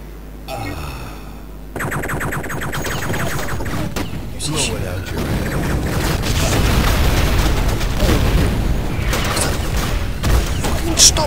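Rocket explosions in Duke Nukem 3D, booming blasts layered with mechanical game effects and music, building into a dense, sustained roar with sharp bursts near the end.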